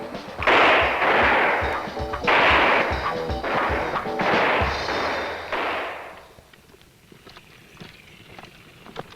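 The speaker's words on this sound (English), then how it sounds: "This is one of many opportunities the recruits will have to qualify with their rifle." Rifle fire from Marine recruits shooting for qualification score on a range, a rapid run of loud, sharp cracks in clustered volleys for about six seconds, then fading to scattered fainter distant shots.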